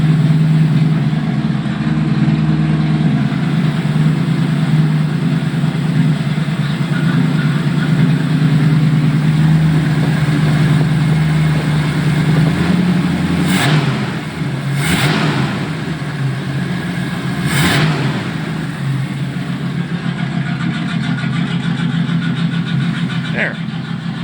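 A car with no muffler fires up and runs rough and loud, its raw, blatty exhaust drone hanging close. Sharp clanks and knocks cut in partway through, and someone talks over the engine.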